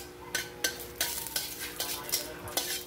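Garlic sizzles in a pan for fried rice while a utensil stirs it, giving about eight rhythmic scraping strokes roughly every third of a second over a soft steady fry, up close with no speech.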